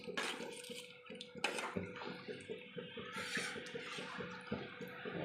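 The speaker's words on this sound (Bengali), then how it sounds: "এবার আমি জল দিয়ে দিলাম পরিমাণ মতো।" Water pours and splashes into a pot of browned goat meat curry, with clinking of a pot or utensil and irregular sloshing bursts, moderately close and fairly quiet, with no talking.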